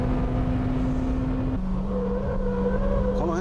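A BMW M3 drives on a rough road surface with a steady engine hum that drops in pitch at a gear change, then climbs again as the car accelerates, close and continuous.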